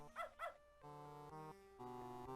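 Two quick close yips from a dog in the Beneath a Steel Sky video game, followed by sustained synthesized game music tones.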